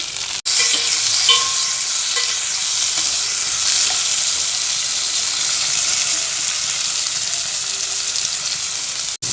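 Onion and tomato with curry leaves sautéing in a pan for a kurma, producing a loud, continuous sizzle with stirring underneath that lasts nearly ten seconds, close up and with no talk.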